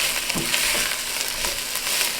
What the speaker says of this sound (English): I'm going to go ahead and add in my spinach now. Just get that stirred up really well